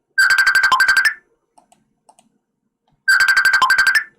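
Electronic phone ringtone during an outgoing call chirps in a rapid trilled burst of about a second, falls silent, then repeats the same burst, loud and clear with nothing else heard.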